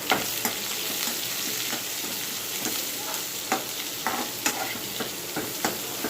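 Onion, green chili and garlic fry in a pan with a continuous close sizzle, while a spoon stirs and scrapes, giving regular light taps and clinks over the hiss, with no speech.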